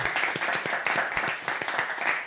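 A television game show studio audience applauds to welcome a contestant, a dense, steady patter of many hands clapping continuously at moderate loudness.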